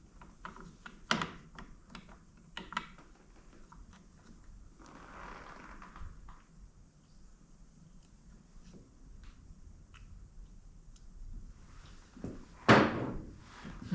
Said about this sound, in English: just work the throttle a whole bunch of times